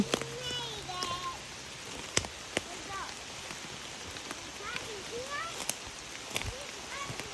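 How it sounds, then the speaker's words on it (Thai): Steady rain patters on leaves and ground in a wooded backyard, a continuous close hiss broken by occasional louder drips, with birds chirping and a person talking through it. "ฝนตก ค่อยไปตัดอีกทางหนึ่ง"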